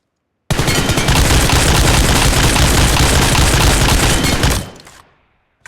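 Automatic gunfire in the BGMI mobile shooter game, one loud, dense burst of rapid shots held for about four seconds before it cuts off and fades.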